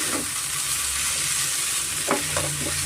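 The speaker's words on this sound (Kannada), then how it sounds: "ಚೆನ್ನಾಗಿ ನಾವು ಮಿಕ್ಸ್ ಮಾಡ್ಕೊಳ್ಳೋಣ." Soaked flattened rice (avalakki) and grated cucumber are stirred in a hot pan, a constant sizzle under a few soft scrapes of the spoon near the end.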